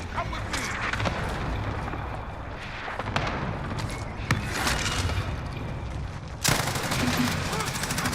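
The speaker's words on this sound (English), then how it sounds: "Oh man, he has a fire shotgun too." Rapid shotgun blasts and gunfire from a Call of Duty Warzone multiplayer match, a dense continuous barrage of shots with louder bursts, heard under game noise with talk mixed in.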